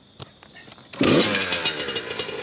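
A Yamaha YZ 85 two-stroke dirt bike with a new engine kicks into life after a few clicks and knocks, then runs loud and close with a raspy, buzzing idle and quick blips.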